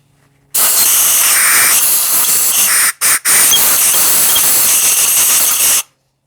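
Air hissing through a cylinder valve on a Harley Shovelhead engine, a loud, close, steady rush that breaks off twice briefly near the middle before resuming and then stopping abruptly.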